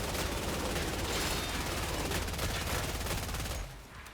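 Dense, continuous gunfire rattles loudly in the video game Killing Floor 3 as rapid shots blur into a sustained barrage, then it eases off briefly near the end.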